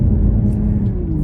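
BMW M340 accelerating hard from a standstill, heard as a loud, close, steady deep engine rumble and whir that holds for the whole moment with no talking.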